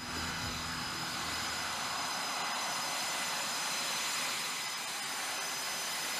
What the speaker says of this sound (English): during hot pit refueling, the engines of the aircraft remain running